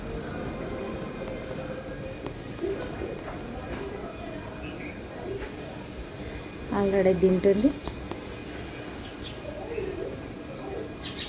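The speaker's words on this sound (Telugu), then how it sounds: "ఊర పిచ్చుకలు కూడా ఉన్నాయి చెట్టు మీద, చాలా ఉన్నాయి" House sparrows chirp in scattered bursts from a tree outdoors, with pigeons cooing and a person talking briefly partway through.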